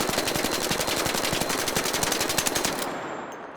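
A full-auto firearm fitted with a compensator or muzzle brake fires one long, loud, rapid sustained burst of evenly spaced shots, ending abruptly into a short ringing decay.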